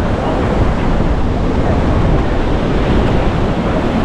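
Monsoon sea waves surge up to the entrance of a beach in Goa, a loud, continuous roar of rushing surf and water with wind buffeting the microphone throughout.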